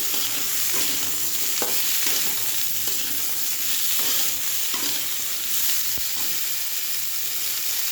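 Snake gourd frying in a pan as it is stirred, a steady close sizzle broken by scraping strokes and occasional light clicks of the utensil against the pan.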